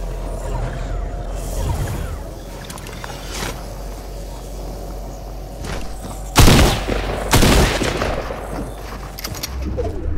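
Gunfire in the video game Fortnite, two sharp, loud bursts close together near the end over a quieter background of game ambience.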